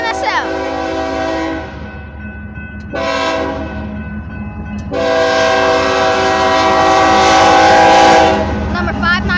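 BNSF mixed freight locomotives 5985, 3960 and 7180 sound a long horn show, with loud sustained multi-note blasts broken by short pauses while the train rumbles past close by.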